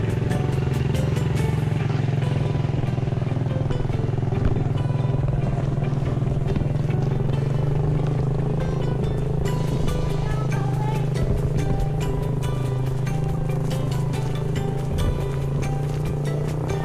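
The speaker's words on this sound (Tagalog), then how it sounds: "may motor, gilid" A motorcycle running steadily on a rural nature-trip road, its engine drone continuous and fairly loud throughout with some rattling clatter, likely passing close by.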